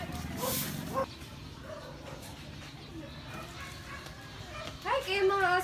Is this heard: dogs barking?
yes